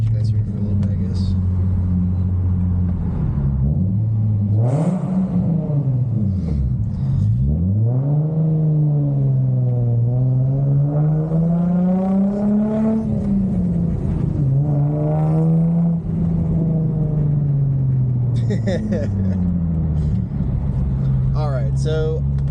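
A 2004 Infiniti G35 coupe's engine revving repeatedly, loud and close, its deep rumble rising and falling through several sweeping revs over a steady idle, with brief chatter in places.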